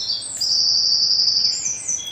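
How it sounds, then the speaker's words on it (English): Birdsong plays from a television, a sustained high chirping tone with faint room noise underneath and no speech. "Let me turn the birds down on the TV."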